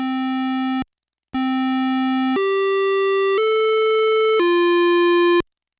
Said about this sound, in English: The first siren tone is a test tone commonly known as Westminster Chimes.